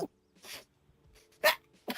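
A few short, sharp bursts in an otherwise quiet room, the loudest one a sudden sneeze, with softer breathy noises around it.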